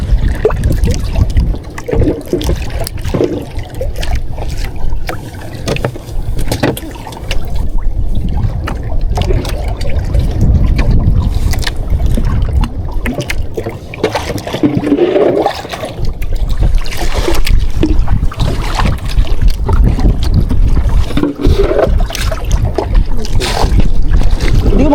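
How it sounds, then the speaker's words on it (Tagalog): Strong wind roars steadily against a microphone on a spearfishing outing, a constant low rumble and buffeting throughout, with water sloshing and a voice faintly underneath. "Malakas ang hangin"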